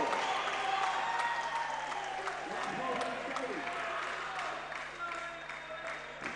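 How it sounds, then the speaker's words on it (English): A crowd at an indoor cricket under-17 boys grand final applauds and cheers, a broad wash of clapping and voices that is strongest at first and gradually fades, with faint speech mixed in. "that's going to bring a big cheer"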